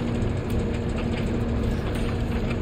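Air purification machinery runs in Final Fantasy VII Rebirth, clearing excess Mako gas: a dense, steady mechanical drone with a constant low hum and faint rattling texture, loud and unbroken throughout.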